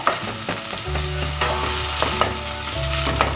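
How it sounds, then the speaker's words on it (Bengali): Finely chopped onions fry in hot oil in a pan for a taki fish curry with courgette or pumpkin, giving a steady close sizzle with stirring scrapes and a low hum underneath. "পেঁয়াজটাকে ভালো মতো একটু ভেজে নিতে হবে"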